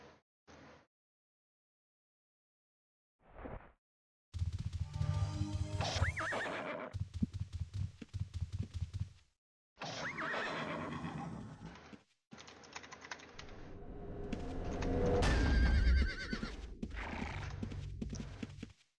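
Horses in the video game Ultima Online neigh and whinny in repeated bursts, mixed with clip-clopping hooves and clicky game sounds, broken by short silences.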